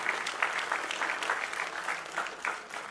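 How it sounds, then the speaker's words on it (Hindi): An audience at a fundraising concert for Nepal earthquake victims applauding a guest invited on stage, with dense, steady clapping that is fairly close, lively and sustained throughout. "एक बार जोरदार तालियां हो जाए उनके लिए प्लीज।"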